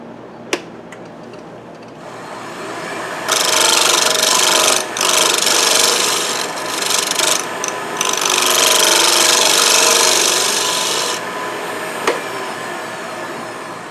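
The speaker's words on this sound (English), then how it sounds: "I'm going to take that out with the rounded negative rake scraper right there" A rounded negative rake scraper smooths a small ridge on a turned wooden sushi dish as it spins on the lathe. There is a loud, sustained rasping drone for about eight seconds, with a few brief breaks, and quieter lathe hum before and after.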